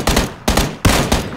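Gunfire in PUBG Battlegrounds: three sharp, loud shots spaced evenly across the moment, each with a brief reverberant tail, no voices over them.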